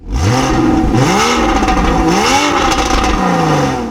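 A Porsche 981 Cayman flat-six engine revs hard and close, its exhaust note rising and falling in several sweeping throttle blips over a continuous loud growl.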